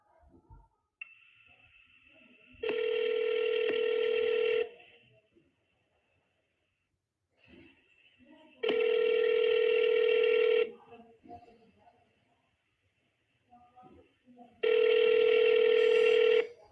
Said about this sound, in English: I'm going to go ahead and call this number here, which is my Go High Level number